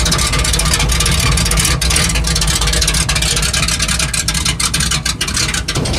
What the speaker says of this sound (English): I'll show you the cutout situation.